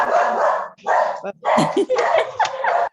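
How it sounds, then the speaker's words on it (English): A dog barks in loud, repeated bursts of yips and barks, close to the microphone during a home video call, with short gaps between volleys. "Okay, whose dog?"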